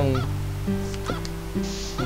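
Harvest Moon: Hero of Leaf Valley farm-game chicken calls, a series of four short honking squawks spaced evenly over a steady droning background tone, with no talk.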